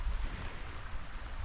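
River on Dartmoor near Tavy Cleave running at full flow, a steady broadband rush of water with constant low rumble, close and continuous, no voices.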